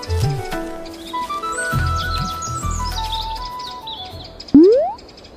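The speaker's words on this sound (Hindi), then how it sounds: "उस जगह पहुंच जाता है जहां गिलू कालिया के जाल में कई बेचारे पंछी फंसे हुए थे।" Several small birds trapped in a hunter's net chirp and tweet in quick overlapping calls, close and bright, over a soft musical backing, ending with a sharp upward-sweeping whoosh effect.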